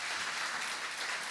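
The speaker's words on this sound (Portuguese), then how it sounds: "desse uma salva de palmas para esse Ministério de Louvor" A church congregation at a Sunday evening worship service applauds the worship ministry, a dense, even wash of clapping heard alone at moderate level.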